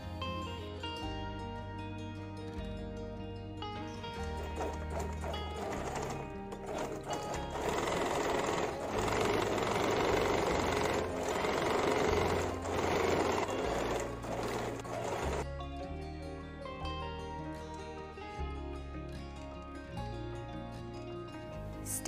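A sewing machine stitches the side seam of a puff sleeve for a crop top, a steady mechanical whir running for several seconds in the middle over continuous background music.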